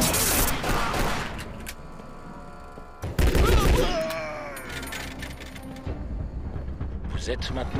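Gunfire and crashing impacts in the video game Red Ocean, with sharp pistol shots, a loud burst near the middle and metallic clatter, while a voice talks over parts of the action.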